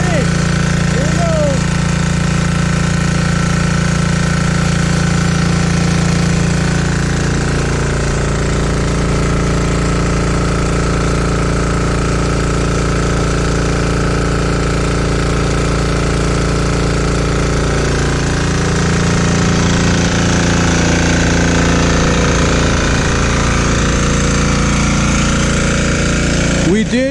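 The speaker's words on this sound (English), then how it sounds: "let the engine run on vegetable oil to make sure it was an accurate test" A Chinese 196cc Model 168F single-cylinder diesel generator runs on vegetable oil with a loud, steady, hard-knocking drone close by, its pitch shifting slightly partway through.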